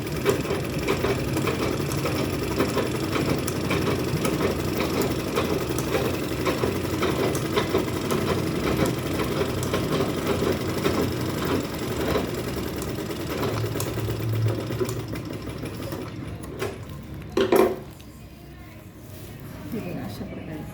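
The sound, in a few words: sewing machine stitching a cloth bag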